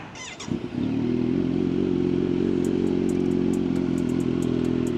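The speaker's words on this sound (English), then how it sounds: "this is like a warm start, so she's not gonna sound as loud" A Kawasaki Z900 with a Leo Vince exhaust and airbox delete cranks briefly, then catches into a steady, throaty idle on a warm start, close and loud, with light ticking clicks over the rumble.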